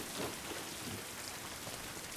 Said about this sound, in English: Raining in this area.